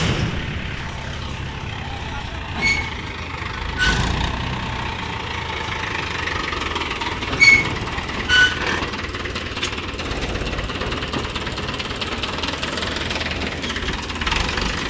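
A farm tractor's engine runs steadily nearby with a rough, rattling chug and a few louder knocks, continuous throughout.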